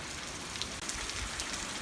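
Cold rain falls outside at sunset, a steady close hiss with scattered drops tapping on surfaces and no speech.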